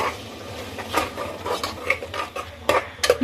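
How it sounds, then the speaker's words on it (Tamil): A ground paste is stirred into a pot of pea and mint rice, with a spoon scraping and knocking against the metal in irregular clinks over a faint simmer, no talking. "ஸோ நம்ம அரைச்சி வச்சிருக்க விழுதை இது கூட சேர்த்துருங்க."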